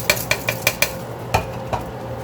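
A spoon clinks sharply against a pot five or six times in quick succession as medium grain rice is stirred into boiling gandules, followed by a couple of softer knocks, close and with no speech.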